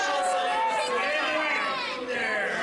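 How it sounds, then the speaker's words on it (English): A wrestling-event crowd chatters and shouts together in a busy, continuous din, close and fairly loud, with no single voice standing out. "you hear the reaction from the PPW crowd"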